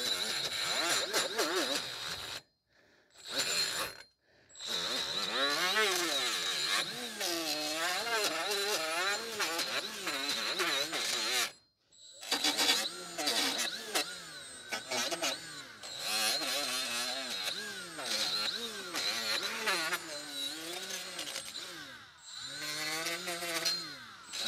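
A power tool whines and buzzes in sustained bursts while scrubbing rust off the front brake hub and caliper of a 2010 Subaru Outback 3.6, pausing briefly a few times between passes.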